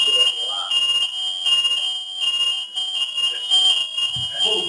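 A fire alarm sounds during a city council workshop meeting, a loud continuous high-pitched electronic tone that persists throughout while people talk faintly underneath.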